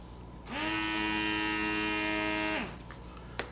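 The small 9-volt DC motor of a mini air compressor spins up, hums as a steady, whiny electric drone for about two seconds, then winds down and stops, followed by a faint click.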